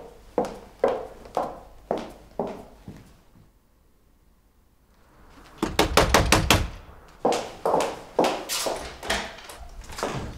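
Knocking on a door in a Turkish drama series: a run of firm, evenly spaced knocks, a pause, then a faster cluster and another steady series of raps.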